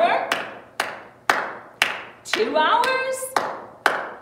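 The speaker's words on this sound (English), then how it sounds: "So can you just keep clapping, okay? Keep clapping." Audience clapping in a hall, a series of sharp claps roughly every half second, heard under a voice talking over them.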